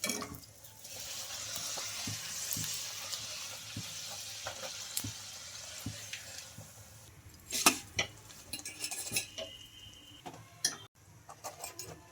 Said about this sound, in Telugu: అన్నీ ఇలానే ఫ్రై చేసుకోవాలి